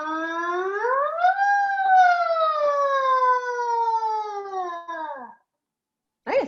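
A single voice imitates a siren, a long wavering tone rising then slowly falling for about five seconds, followed by a brief silence and a short rising burst.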